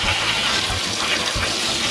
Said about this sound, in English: So we're gonna spray this with hot water, and we're gonna make sure it gets all in there.